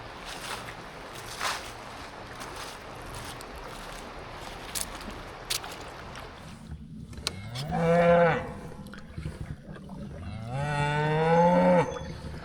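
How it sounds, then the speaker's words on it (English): Cattle mooing from a ridge line near a hilltop farm, two long, loud, drawn-out moos in the second half following a stretch of steady outdoor background noise. "Some cows up along the ridge line."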